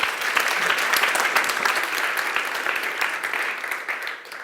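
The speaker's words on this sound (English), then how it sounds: "big applause for Yufeng" Meetup audience applauding a deep learning speaker, a dense, steady wash of many hands clapping that holds at even loudness and tapers slightly at the end.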